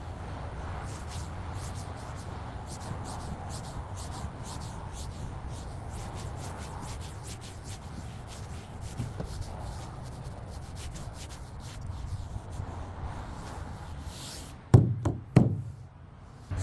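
A hand rubs vinyl landau top material onto the roof of a classic car, making a steady, soft close-up rubbing and brushing that runs throughout. A few sharp knocks come near the end.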